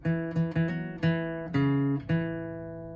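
A short acoustic guitar lick of about six plucked and hammered notes at a relaxed pace, the last note ringing out, with no voices.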